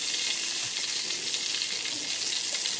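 Boiled cauliflower florets fry in hot oil with salt, giving a dense, steady sizzle and crackle that stays close and even throughout, with no talking.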